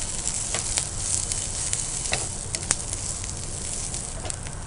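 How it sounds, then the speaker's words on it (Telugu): Capsicum pieces frying in hot oil in a pan, a steady close sizzle and crackle with scattered sharp pops throughout, no voices. "చూసారా మనకి క్యాప్సికమ్ ఇలా ఈ విధంగా కాలుతుంది."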